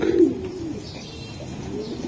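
Club racing pigeons of ARPCD stock coo at a seller's loft, one strong rolling coo up close at the start, then softer cooing trailing on under a low room hum.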